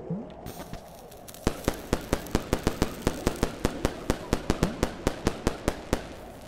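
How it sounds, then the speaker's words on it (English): Firecracker string in the video game Animal Well, a rapid, even run of about twenty sharp cracking pops, loud and close, following a brief quieter lead-in. "I can't use the firecracker,"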